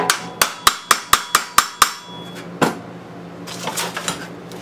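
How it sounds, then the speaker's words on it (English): A ball peen hammer strikes the metal of a 1940s Harley Servicar utility box under restoration, eight quick, evenly spaced ringing blows, then a single louder hit followed by softer handling clatter. "we use a ball peen. Use whatever you have to."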